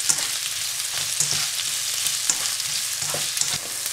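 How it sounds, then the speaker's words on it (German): Tofu and onions fry in hot olive oil in a pan with a steady, close sizzle and crackle, broken by occasional scraping stirs, and no one talking. "sobald es Öl heiß ist, könnt ihr den Tofu und die Zwiebeln in die Pfanne geben"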